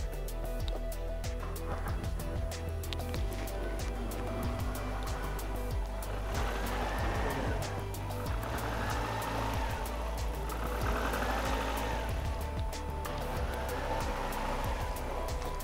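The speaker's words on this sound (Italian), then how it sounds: "Ora metteremo in moto la macchina." A Ford Sierra Cosworth engine running steadily during power steering maintenance, a close, continuous idle hum with a faint whine rising and falling, heard without speech.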